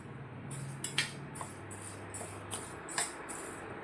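Chana dal and urad dal are dry-roasted in a pan, with a quiet, steady series of about eight light scraping and rattling strokes as the lentils are stirred and shuffled against the metal.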